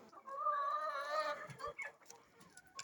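Chickens in a coop cluck and squawk nearby, one long drawn-out call followed by several shorter clucks from a flock of about 50 hens.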